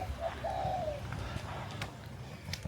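A single soft bird call, a drawn-out coo, sounds nearby over faint room noise, followed by a few light clicks and taps.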